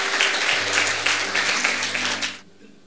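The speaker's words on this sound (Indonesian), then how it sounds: "Tepuk tangan yang dahsyat." A church congregation gives a burst of loud, dense applause that fades out near the end, with faint voices mixed in underneath.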